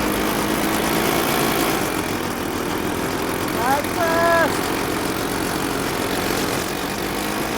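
Airboat engine and propeller spin fast in second gear, a steady loud drone with mid-range rumble running throughout, while a voice talks over it.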